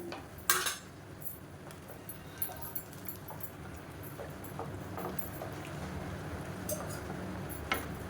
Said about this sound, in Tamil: ஒரு ரெண்டு நிமிஷம் கை விடாமல் கலந்துகிட்டே இருங்க